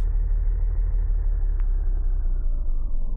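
A car engine idles steadily beside a road in a video game, a low continuous rumble close by with no talking, the motor left running while it cools after overheating.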